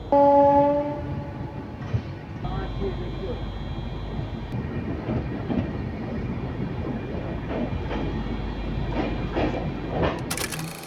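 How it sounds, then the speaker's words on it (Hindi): Jaynagar Bhagalpur Express with new LHB coaches pulls out of Madhubani station, opening with a loud horn blast, then a steady rumble and rhythmic wheel clatter as it gathers speed. "बाकी 2 मिनट होल्ड के बाद अपनी ट्रेन का डिपार्चर हो चुका अपनी मधुबनी रेलवे स्टेशन से।"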